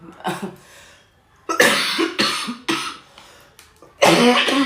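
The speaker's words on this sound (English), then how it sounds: "I got a bit of a cough." Several harsh, close coughs come in separate bursts with short pauses between them, with no talking.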